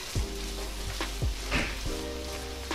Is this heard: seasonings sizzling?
yes